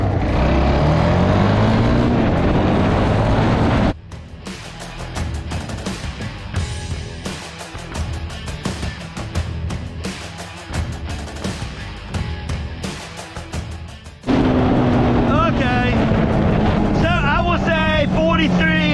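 A Kawasaki Bayou four-wheeler ATV engine drones steadily and loudly as the machine drives uphill, with a harsher, busier stretch in the middle. Wind buffets the microphone throughout, and a voice is heard talking near the end.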